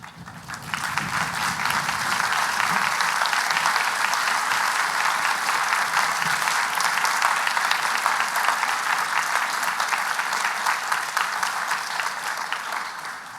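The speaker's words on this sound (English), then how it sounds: "Can I please invite you to stand and provide a round of applause in appreciation for that support" A large graduation ceremony audience claps in sustained, dense applause that builds quickly and carries on evenly for over ten seconds before starting to fade.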